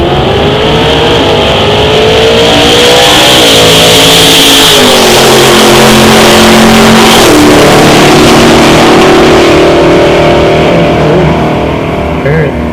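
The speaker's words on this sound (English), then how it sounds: "29 Ford, 414 cubic inch, 671 supercharger on top." A 1929 Ford drag car with a 414 cubic inch engine and a 6-71 supercharger revs loud and close at a drag strip, its engine note rising and shifting continuously while a commentator talks over it.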